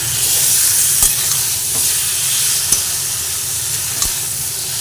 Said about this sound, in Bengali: কচুর শাকটা দিয়ে দিয়েছি এবার এটা একটু হতে দেবো নাড়ানাড়ি করে ভালোভাবে নাড়াচাড়া করে দিচ্ছি